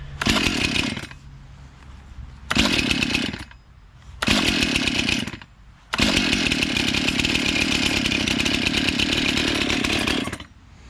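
A repaired Stihl MS291 chainsaw with a rebuilt top end revs loud and close in repeated bursts, dropping to a lower idle between them, then holds a long steady high-speed run before easing off.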